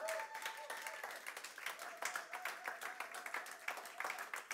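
Church congregation applauding and cheering in a worship service, a steady wash of clapping with raised voices and a faint tonal line running underneath, moderately distant and continuous.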